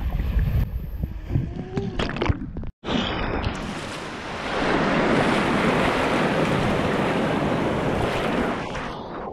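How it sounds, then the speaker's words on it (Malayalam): Surf rolls onto a hidden beach at Vadakara beside a river mouth, wind buffeting the microphone at first, then a loud sustained wash of breaking waves swells up and holds to the end. "ഏതായാലും നല്ല തിരയുണ്ട്."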